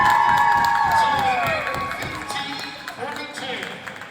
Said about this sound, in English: As you can hear the crowd give their appreciation.